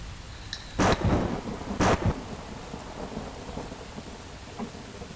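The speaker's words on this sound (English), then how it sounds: "I'd forgotten the game can rain in this fashion" Thunder and steady rain from a storm in the video game Star Wars Galaxies Legends: two loud, sharp thunder cracks about a second apart, then continuous rain hiss with faint rumbling afterward.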